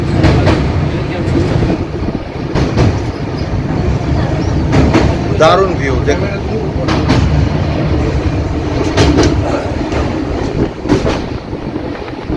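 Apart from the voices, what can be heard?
tourist express train crossing the Teesta bridge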